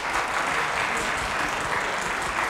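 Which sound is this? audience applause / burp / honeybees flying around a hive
audience applause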